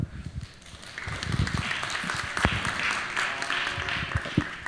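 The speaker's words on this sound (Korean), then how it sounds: "박수로 호응해 주시면 감사할 것 같습니다" A young adults' church worship gathering breaks into applause, uneven clapping with scattered sharp claps and low thumps of movement, moderately loud and close.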